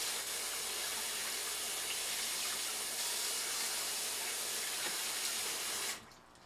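A kitchen tap runs steadily as something is rinsed in the sink while cooking banana oats for breakfast, a continuous close hiss and splash that stops abruptly near the end.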